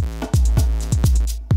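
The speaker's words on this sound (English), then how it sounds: "Then our drums sound like this." Drums with reverb added, played back through Cubase: a steady run of close, punchy kick and snare hits, each one trailed by a reverb tail that fills the gaps between beats.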